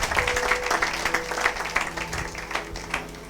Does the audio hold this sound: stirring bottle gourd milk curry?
no